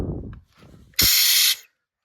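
A brief loud hiss of air from a vacuum tool drawing brake fluid at a bleeder on a Jeep Grand Cherokee 2.7, lasting about half a second after a few soft clicks and muffled handling noises.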